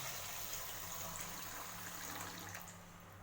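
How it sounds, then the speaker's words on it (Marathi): Water poured into a bowl of washed pearl millet for soaking, a faint, steady rushing pour that eases off slightly near the end, heard alone. "त्यामध्ये टाकायचं पाणी"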